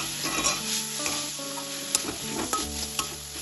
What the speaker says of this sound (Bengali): এবার ভালোভাবে এটা নাড়তে থাকবো।